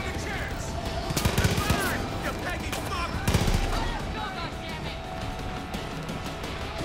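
Sniper fire in Far Cry 5: a few distant gunshots, two of them standing out, over a steady bed of game ambience and other gunfire.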